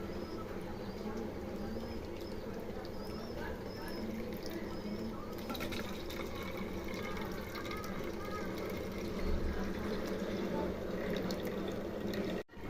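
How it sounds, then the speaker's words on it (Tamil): Curdled milk, split for rasagulla, is poured through a white cloth to strain off the whey. A soft continuous trickle and splash of liquid runs steadily while someone talks over it. "இப்போ வந்து ஒரு வெள்ளைத்தூளில் போட்டு அதை வடிகட்டிக்கலாம்."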